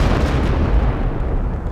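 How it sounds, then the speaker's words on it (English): Artillery and mortar bombardment in a competitive Valor video game match thunders steadily, a dense wall of low booms and rumbling explosions that swell slightly near the middle, with nobody speaking. "artillery fire for artillery fire"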